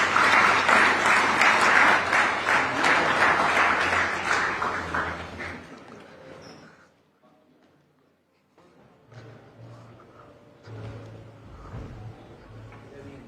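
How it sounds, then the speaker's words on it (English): Audience applause welcoming guests onto the stage at a live business talk event, loud sustained clapping for about six seconds that fades out, followed by quieter stage noise and low voices. "Ladies and gentlemen, please put your hands together on welcoming them on stage."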